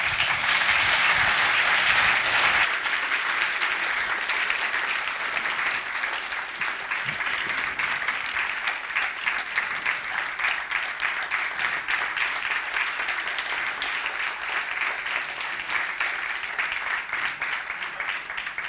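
Sustained audience applause at an award ceremony for the Future Policy Award 2023, dense steady clapping from a large crowd filling the whole stretch, loud and continuous without speech.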